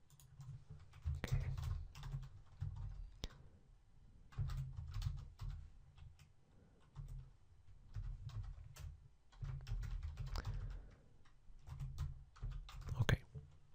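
Typing on a computer keyboard at a desk, with quiet clicking keystrokes in several bursts separated by short pauses, soft and close.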